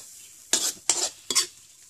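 Boiled bamboo shoots stir-fried with holy basil and onion, heard as three quick, close scrapes of a spatula through the pan over a faint background sizzle.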